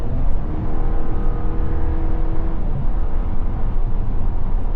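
A 2024 Chevy Traverse with a turbocharged four-cylinder accelerating on the road, a steady loud engine drone and rising hum with road and wind noise from inside the cabin, no talk.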